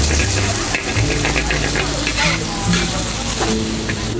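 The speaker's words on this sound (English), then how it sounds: "The egg obviously, and the soy sauce, and you stir fry everything." Hokkien char stir-fried with egg and soy sauce at a Penang street food stall in Malaysia, a loud, close, constant sizzle broken by clanking spatula strokes against the wok.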